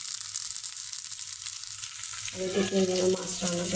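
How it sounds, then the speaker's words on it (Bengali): Small river fish (chanda), coated in a little turmeric powder and salt, frying in oil with a steady close sizzle and crackle that thickens into bubbling spatter partway through. "সেগুলো একটু সামান্য হলুদের গুঁড়ো আর লবণ দিয়ে তেলে ভেজে নিচ্ছি ভালো করে"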